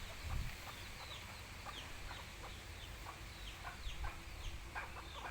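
Bantam chickens clucking softly and repeatedly in an open outdoor space, scattered calls at a moderate distance over a steady background hum.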